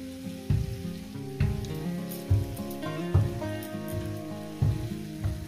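Two to three spoons of oil sizzling in a pan while a pumpkin mash is prepared, a steady crackle broken by repeated soft knocks and clatters of the pan or utensil.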